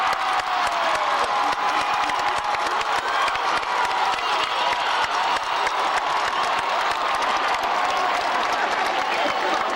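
A large commencement audience applauds loudly and continuously, a thick wall of clapping with scattered cheers and whoops running unbroken throughout.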